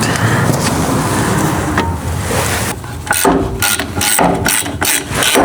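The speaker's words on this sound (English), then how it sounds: "Take the nut off. Not the bolt, leave the bolt in place." A ratchet wrench clicks close up as it loosens a suspension nut on a 1979 Fox Body car, bursts of rapid pawl ratcheting with brief pauses and metallic handling between strokes.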